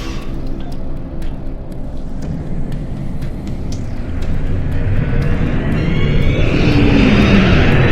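Starship engines surging to full impulse in Star Trek Online, a loud, steady roar that swells and rises in pitch over several seconds, with no talk.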